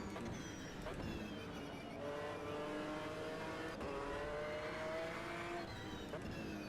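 In the Automobilista 2 racing game, a McLaren F1 GTR race car engine drones loudly and continuously at Silverstone's 1991 historic layout, pitch climbing and dropping through gear changes with other cars' engines blending in.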